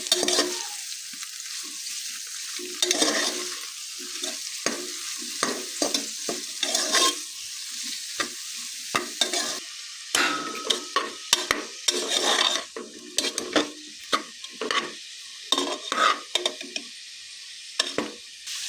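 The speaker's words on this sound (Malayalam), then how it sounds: "ബാക്കി കിഴങ്ങ്, കറിവേപ്പില ഇതെല്ലാം കൂടി ഇട്ട് യോജിപ്പിക്കാം." Beef and potato fry with curry leaves is stirred in a hot pan, a steady sizzle under repeated scraping and clinking of the spoon against the pan, close up with no talk.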